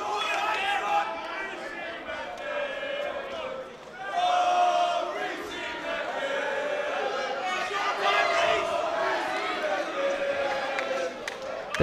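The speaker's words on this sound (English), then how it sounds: "The crowd well and truly behind Reece MacMillan here in Bolton" A boxing crowd in Bolton roars and chants steadily throughout a live fight, with a loud swell of cheering partway through and excited voices layered over the din.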